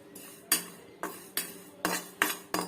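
Cumin seeds being lightly roasted in a pan after dried red chillies, with a utensil scraping and clinking against the pan in six or seven sharp strokes, close and clear, with no talking.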